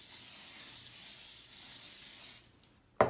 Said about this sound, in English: I like using an easy spray canola oil that I'll spray and I'll coat